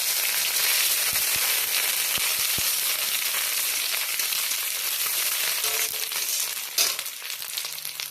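Ginger paste sizzles and fries steadily in hot tempered oil, a dense continuous crackle with a few sharp pops, close and fairly loud with no voices.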